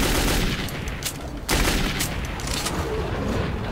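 Kalashnikov rifle fire in Metro 2033 sounds as dense, sustained automatic bursts, loud and continuous, with a brief pause before the shooting resumes.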